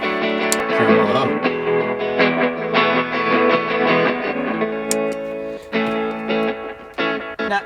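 Electric guitar chords played through a tremolo pedal pulse with a wavering, choppy volume, each strum given a rhythmic throb, ending in short stabs.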